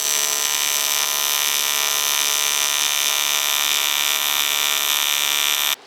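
A TIG welder runs a bead around a half-inch-thick steel flange on an abandoned Evo 8 under restoration, giving a steady, loud, close electrical buzz that holds unbroken and cuts off abruptly at the end.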